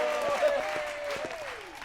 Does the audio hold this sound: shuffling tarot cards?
no